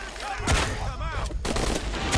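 Rapid gunfire bursts in the action game Shadow of the Tomb Raider, several sharp close shots in quick succession mixed with shouting and other combat noise.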